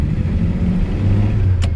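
A Studebaker project truck's engine runs steadily with a low, throbbing rumble. It stays close and loud throughout, with no voices over it.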